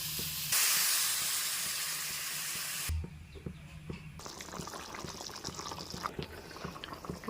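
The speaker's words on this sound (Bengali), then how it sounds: "এবার পরিমাণ মতো জল দিয়ে দেবো" Water poured into a pan of potato and pointed gourd curry, a loud hissing sizzle for a couple of seconds, then softer bubbling crackles and clinks as it settles.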